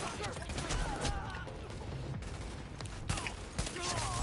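Rapid volleys of gunfire from a PS4 shooter game's heated gun battle, dense bursts running continuously with a couple of sharper cracks near the end.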